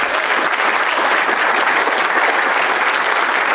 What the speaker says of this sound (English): About one more round of applause for Ava.